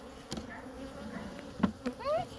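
Honey bees hum inside a hive being opened during a split, a soft, continuous buzzing with a few nearby wing whines and light knocks over it.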